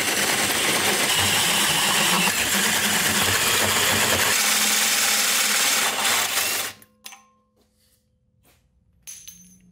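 A power drill whirs loudly and continuously in a workshop for several seconds, then cuts out abruptly, leaving near silence with a few faint clicks and knocks afterward.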